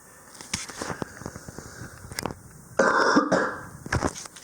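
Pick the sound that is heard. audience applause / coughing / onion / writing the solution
coughing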